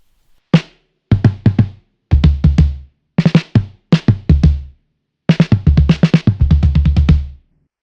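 Snare drum fitted with a synthetic cowhide-style magnetic head cover, giving a vintage, fluttery tone: loud, close, dry hits in quick rhythmic groups and rolls, with no voices.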